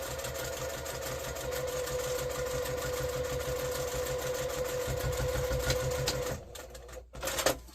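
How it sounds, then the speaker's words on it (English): A sewing machine stitches a seam across a reusable heat pack in a steady, rapid mechanical run with no pauses, then stops and leaves a few small clicks and handling noises near the end. "I am going to do another seam across here just in case"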